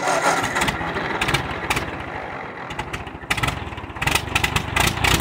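A flooded Ford 660 tractor engine cranks and sputters as it tries to start, with loud repeated turning-over bursts and uneven firing throughout.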